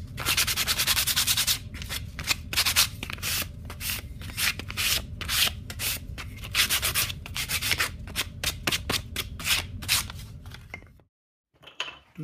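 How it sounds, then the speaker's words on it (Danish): Sandpaper of 120 grit rubs briskly over the edges of wooden pieces, close and loud, in rapid rhythmic back-and-forth strokes that run continuously for about eleven seconds before stopping abruptly. "Du skal bruge et stykke 120 sandpapir, og så sliber du ellers bare på alle kanter"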